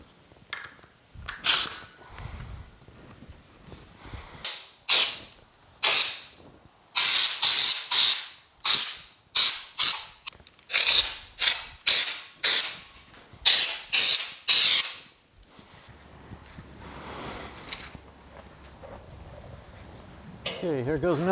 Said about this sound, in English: then we'll crawl underneath there and start spraying